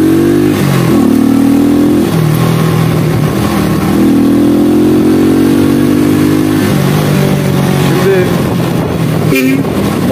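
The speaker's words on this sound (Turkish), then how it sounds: "4. seste de bile motor hızı artıyor yani." A 110cc Honda Cup motorcycle engine revs up through the gears while riding on a road, its mid-pitched drone rising and falling continuously and loud throughout, with wind noise and a faint voice beneath.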